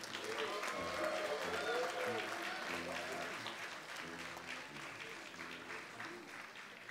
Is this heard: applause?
yes